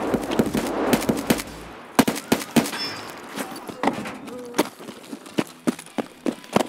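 Gunfire in the video game Escape from Tarkov, a string of sharp loud shots in irregular bursts and single cracks, some close and some farther off, with faint voices underneath.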